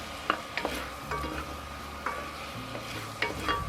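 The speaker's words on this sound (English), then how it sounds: "add about a heaping tablespoon of garlic to that, minced garlic in there. Get that cooked up in there." A heaping tablespoon of minced garlic sizzles in a pan with onions, a bright close frying hiss punctuated by several sharp spatula clicks and scrapes against the pan.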